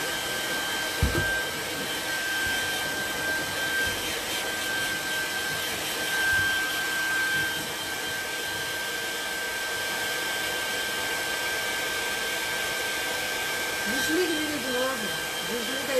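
A hair dryer runs continuously to dry paint on a 3D art project, a loud steady whooshing blow with a fixed whining tone throughout, with faint low bumps and handling noise underneath.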